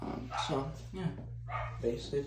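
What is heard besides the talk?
dog barking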